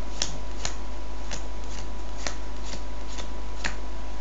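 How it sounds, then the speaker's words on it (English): Playing cards are dealt one at a time onto a pile as they are counted out, giving a steady series of crisp, close snaps about twice per second. "we don't want to be counting out all of the cards"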